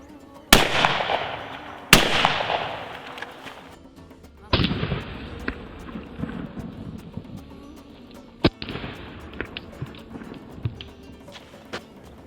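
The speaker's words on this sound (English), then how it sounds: "This time we're going to be using our bical over and under for shooting our full brass" An over-and-under 12 gauge shotgun firing brass shells loaded with smokeless powder, sharp loud reports with ringing decay: two shots close together, then another, then a fourth, outdoors, with faint talk between.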